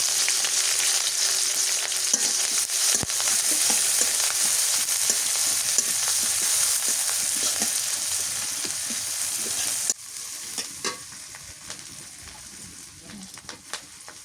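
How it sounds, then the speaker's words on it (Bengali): Chopped onion and green chilli frying in oil after cumin, a loud close sizzle with stirring that drops to a quieter crackle near the end, no speech. "পেঁয়াজ কুচি দিয়ে দিলাম, কাঁচা মরিচ,"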